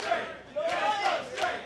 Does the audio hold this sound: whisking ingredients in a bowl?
no